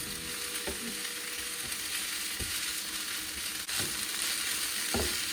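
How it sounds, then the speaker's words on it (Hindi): Beans and cabbage sauté in a pan for Cambodian stir-fried rice noodles, a soft continuous sizzle broken by a few sharp stirring knocks and scrapes, with no voices. "इसको बस हल्का सा हमने सौते ही करना है, साथ ही हम कैबेज भी ऐड कर लेते हैं।"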